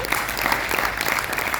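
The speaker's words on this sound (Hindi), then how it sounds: "ताली बजाओ तो जोर से बजाओ" A hall audience breaks into steady, dense clapping at a spiritual gathering, the applause continuous and fairly loud throughout the short burst.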